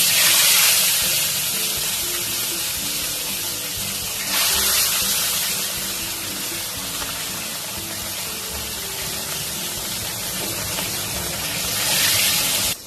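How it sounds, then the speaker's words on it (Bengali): Pieces of katla fish fry in well-heated oil in a kadai, a loud, close, rushing sizzle that swells in surges near the start, middle and end; no speech. "কাতলা মাছগুলো ভেজে নেব।"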